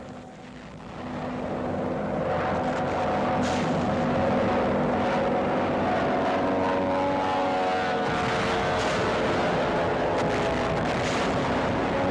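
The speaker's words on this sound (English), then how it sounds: "The rocket-firing Typhoons cut down installations of the Nazi defense network." Steady loud engine roar from rocket-firing Typhoon fighter aircraft over the Rhine in a WWII newsreel, a continuous droning rumble that swells in the first second and holds without pause.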